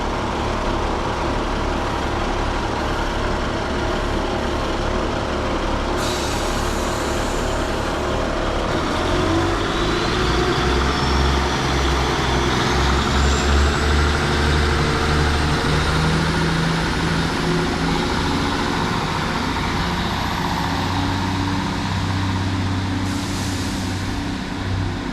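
A Class 150 diesel multiple unit pulls out of Falmouth Town station bound for Truro, its engine droning low and rising in a throaty growl as it accelerates, loud and steady with a faint whine climbing on top.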